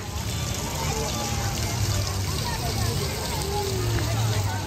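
Water runs steadily at an old water clock at Dollywood, a close, continuous rushing trickle that fills the whole moment, with murmuring voices faintly underneath.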